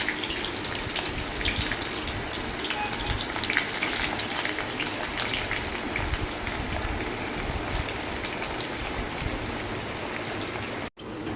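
Sliced onions for chicken biryani fry in hot oil, a dense, steady sizzle and crackle running unbroken and fairly close, with no talk, until a brief cut near the end.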